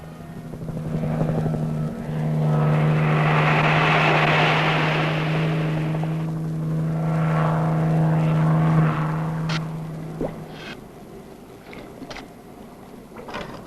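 Helicopter flying concrete out to the Royal Sovereign lighthouse off Eastbourne in 1972, a steady rotor drone swelling loud and close, then fading away over several seconds.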